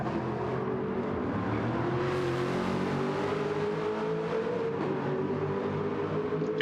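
Aston Martin GT4 race cars lapping in a sim racing game, a steady, fairly quiet engine drone with a rising whine as one car accelerates, no voices over it.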